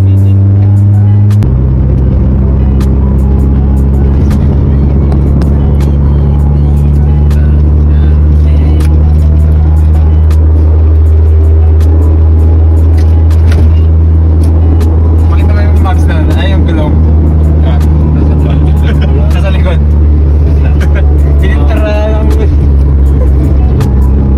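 A car drives along a road after passing through traffic and light flooding, heard from inside as a loud, steady engine and road rumble with occasional clicks and faint background sounds.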